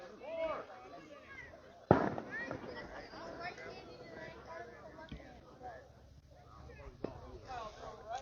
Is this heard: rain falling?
no